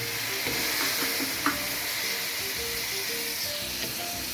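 Steady loud sizzling of glass noodles stir-frying in a wok over medium heat, with occasional scrapes and clinks as they are stirred, no voices.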